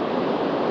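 Ocean waves wash onto a surf-fishing beach near a sandbar cut, a brief, loud, steady rush of surf with no voices.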